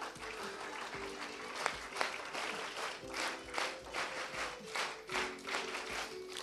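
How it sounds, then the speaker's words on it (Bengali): An audience at an anniversary program for a children's cultural organisation claps together in loud, sustained applause, with a few rhythmic surges and no talking. "আমি একটু সবাইকে নিয়ে এই উৎসবমুখর পরিবেশটাকে আরেকটু আনন্দঘন করার জন্য একটু জোরে একটা করতালি আশা করছি সবার কাছে"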